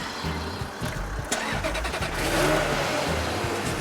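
A Ferrari 355 engine cranks over and catches, then revs up with a rising, roaring mid-range growl that holds loud and close through the end.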